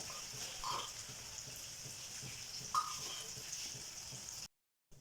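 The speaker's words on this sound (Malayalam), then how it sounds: "അങ്ങനെ ഈ പച്ചക്കയൊക്കെ നമ്മൾ ഒലുത്തി എടുത്തിട്ടുണ്ട്." Cooked green plantain sautéing in a pan with turmeric and crushed chili, a steady soft sizzle with a couple of faint stirring scrapes, ending abruptly in silence.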